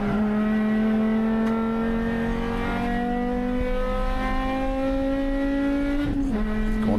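A race car engine drones steadily at high revs in an endurance race at Road America, with the pitch climbing gradually before a brief dip and recovery as the gear changes near the end.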